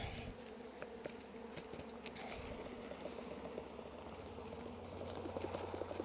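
Honey bees buzz in a steady, continuous drone around an open hive during a mite wash, with occasional small clicks and handling noises over the low hum; no one speaks.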